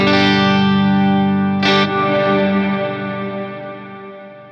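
An electric guitar runs through a Mad Professor Kosmos reverb pedal, a loud sustained chord ringing with a lush reverb tail and one brief bright strike midway, slowly decaying toward the end.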